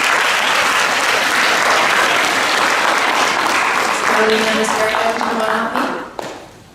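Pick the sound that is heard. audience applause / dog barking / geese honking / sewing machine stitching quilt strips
audience applause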